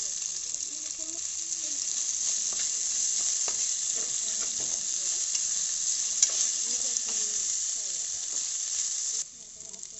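Onions frying for a restaurant-style biryani, a steady bright sizzle throughout with repeated stirring scrapes and clinks, close and fairly loud, ending slightly quieter.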